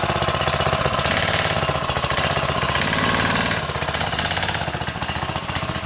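A freshly tuned go-kart engine with a worn clutch runs hot and close, a loud rapid clattering drone that rises and dips slightly in pitch, steady throughout.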